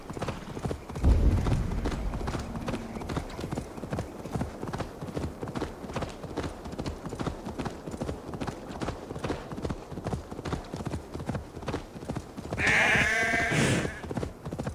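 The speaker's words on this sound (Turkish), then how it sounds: "Salak koyun ya, yolun ortasında duruyor." A sheep in the video game Assassin's Creed Valhalla gives one short, clear bleat near the end, over a constant rhythmic clip-clop of a horse's hooves, with someone talking now and then.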